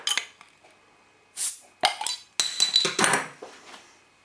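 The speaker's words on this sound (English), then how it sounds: "I'm just going to get myself a bottle opener." Beer bottle of Kernel Brewery Export Stout being handled and opened with a bottle opener, a series of close metallic and glass clinks and taps with a brief cap-pop hiss, no talking.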